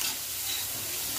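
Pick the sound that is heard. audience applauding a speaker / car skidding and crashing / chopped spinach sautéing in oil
chopped spinach sautéing in oil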